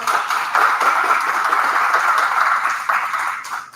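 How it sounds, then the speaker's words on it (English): Audience members at a civic panel event on ballot initiatives applaud a panelist, producing a dense, sustained wash of many hands clapping at close to middle distance that holds steady for several seconds before thinning out. "Let's give him a quick round of applause."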